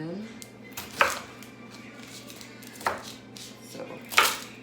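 A knife chops an onion on a cutting board, three sharp, well-spaced knocks over a quiet room background, with faint voice-like sound in between.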